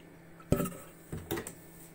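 A pan is set onto a gas stove in a home kitchen before cooking broken-wheat upma, making a metallic clank followed by a second, softer scrape and knock, close and clear in a quiet room.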